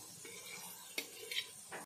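Goat brain being gently sautéed in a pan for bheja fry, with a quiet, low sizzle and a few light clinks and stirring scrapes, faint and close, no talking.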